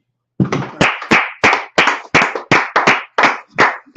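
A small group claps together in a strong, even rhythm, about a dozen crisp claps spaced close together and loud, with no talk over them.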